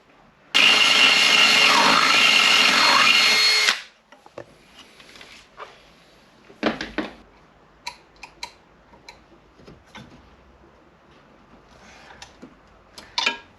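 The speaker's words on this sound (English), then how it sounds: "I'm going to have to drill the hole out a little bit." A power drill bores out a hole in a bracket during a Ford Transit camper conversion, with one loud continuous whine of about three seconds. Scattered clicks, taps and handling knocks of parts follow.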